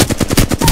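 Rapid automatic gunfire from the Apex Legends video game, a long-range burst of about eight evenly spaced shots in quick succession, loud and close, with no talking over it.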